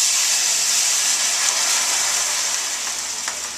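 White wine poured into a hot pan of mussels, garlic and chili sets off a loud, steady sizzle and hiss of steam that carries on evenly and eases off only slightly toward the end.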